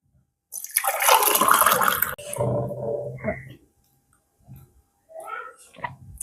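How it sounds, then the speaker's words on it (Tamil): A homemade drink is poured into a glass, making a close, rushing liquid pour that lasts a couple of seconds. Softer splashing and a few brief sounds follow. "வாங்க கிளாஸில் விடுவோம்."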